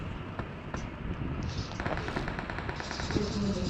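Automatic gunfire in the mobile game BGMI crackles in rapid, steady bursts at moderate loudness, mostly unbroken, with faint game noise beneath.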